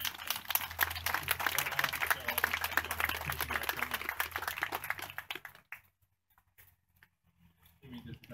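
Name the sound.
applause for the Regional Police Department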